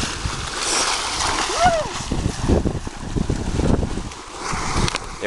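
A splash of someone jumping off a boat into the sea off Tahaa in the morning, set amid wind buffeting the microphone and boat noise, with voices calling out nearby.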